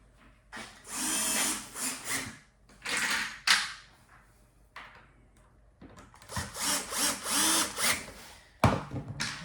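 A cordless screwdriver tightens connector fittings while a wooden Safari table from Oregano is being assembled, giving several loud whirring bursts separated by short pauses, close by and with no speech over it.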